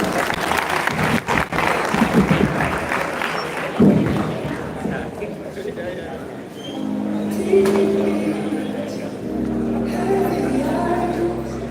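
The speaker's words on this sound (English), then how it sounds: "It's a round of applause." Audience applause breaks out during a cake cutting at a class gathering, loud and dense for the first few seconds, then giving way to voices talking and a low hum.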